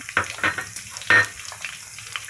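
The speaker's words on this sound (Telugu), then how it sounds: "ఇది గోల్డెన్ బ్రౌన్ కలర్ వచ్చేంత వరకు ఫ్రై చేసుకోవాలి ఆనియన్స్" Onions frying in a pan for tomato egg rice, a close, steady sizzle broken by several sharp bursts of stirring and scraping.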